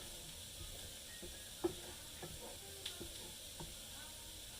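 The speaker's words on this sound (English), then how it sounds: "I'm going to stir them up." Boiling beans being stirred in a pot, with a faint steady simmering hiss and a few soft, sparse clinks and scrapes from the spoon, fairly quiet with no talking.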